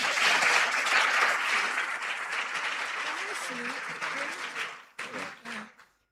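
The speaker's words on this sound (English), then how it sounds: "Please give them a round of applause." An audience at a quiz competition gives a loud round of applause that thins out and fades, with a few voices speaking over the last scattered claps.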